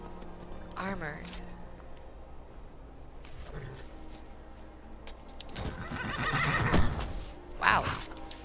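A horse in the video game Skyrim whinnies twice with clip-clopping hooves, the second neigh louder and longer, over quieter game background sounds.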